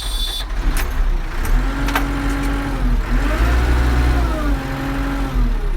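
A JCB backhoe loader's diesel engine cranks and idles close by, a loud continuous mechanical drone with a rising and falling whine, without voices.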